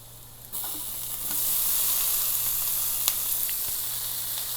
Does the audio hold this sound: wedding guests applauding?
no